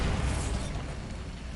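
Dense, roaring blast noise from the Bombarda explosion spell in Hogwarts Legacy fills the whole moment loudly, with no clear start or end.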